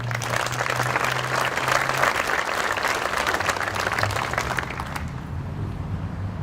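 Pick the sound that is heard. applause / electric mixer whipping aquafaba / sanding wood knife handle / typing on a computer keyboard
applause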